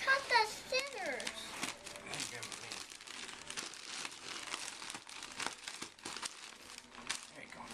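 Christmas gift wrapping paper crinkles and tears in bursts as it is pulled open, with a voice and other people talking over it.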